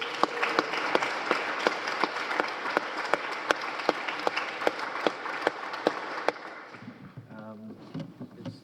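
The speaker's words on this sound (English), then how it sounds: "One more round of applause for this guy." Applause from the crowd at an open A.A. meeting for a speaker, hearty sustained clapping with sharp individual claps standing out, dying away near the end as a voice begins talking.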